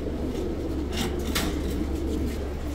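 Pigeons coo at a bird market in Baghdad's Adhamiya district, soft low calls repeating over a busy, steady background murmur with occasional rustles.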